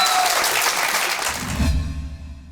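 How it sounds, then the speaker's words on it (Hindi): A TV studio audience bursts into loud, dense applause that cuts off abruptly and gives way to a low musical sting. "तालियां बजाओ."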